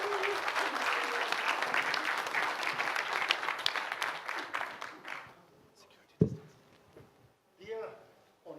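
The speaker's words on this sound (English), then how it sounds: "Big applause." At an organic agriculture anniversary conference, the audience gives a round of applause that is thick and sustained at first, then thins and fades out. Scattered claps and a thump follow in a quieter room.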